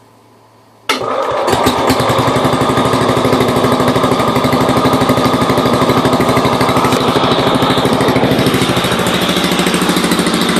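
A Kohler K181 8 hp single-cylinder engine on an old garden tractor cold-starts from silence with choke, catching almost at once and settling into a loud, steady, rapid thumping run close by.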